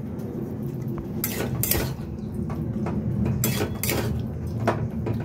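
Metal utensils clink and scrape against a pot as fried paneer goes in over boiled rice and potatoes for a Bengali aloo paneer ghonto, with repeated close, bright knocks over a steady low background.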